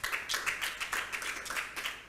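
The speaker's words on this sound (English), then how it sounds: "And when the CEOs clap" Hands clap steadily in quick, even bursts, a small group of business executives applauding at a motivational talk, fairly close and continuing without pause, with no voices over it.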